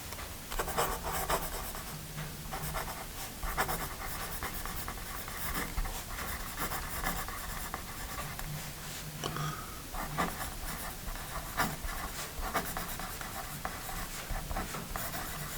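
A Paper Mate Write Bros 0.9mm mechanical pencil writes on paper, with close, continuous scratchy strokes and small taps in an uneven rhythm, no voice over it.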